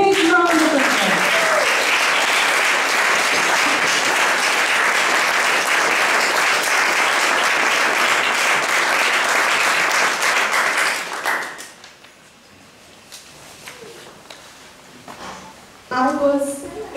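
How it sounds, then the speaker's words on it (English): A large audience applauds loudly and steadily for about eleven seconds at a speaking event in Northeast India, then the clapping cuts off into near quiet before another brief burst of sound near the end. "Give her a big round of applause."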